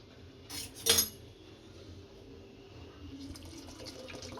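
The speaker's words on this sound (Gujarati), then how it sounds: "થોડું થોડું પાણી નાખતા જઈશું" Water is added little by little to sieved gram flour batter in a bowl for motichoor laddu boondi. A couple of sharp utensil clinks come first, then a soft, faint trickle and pour continues nearby.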